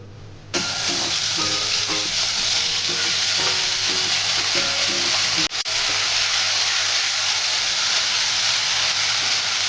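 A ground spice paste with cashew hits a hot pan for paneer butter masala, bursting into a loud, steady sizzle that starts abruptly and holds evenly, with a brief clatter midway.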